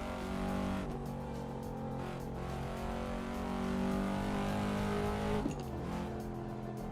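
Simulated car engine driving in the racing game Assetto Corsa, a steady sustained drone with harmonic tones that climb and shift with engine speed, loud and continuous throughout with a brief gear-change dip near the end and no talking.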